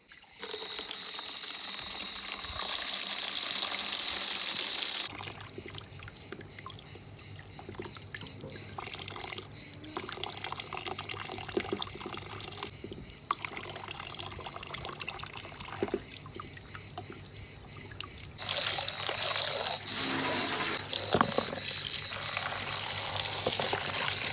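Steady running water pours and splashes continuously, with occasional rubbing and knocking as freshly dug potatoes are rinsed under the stream.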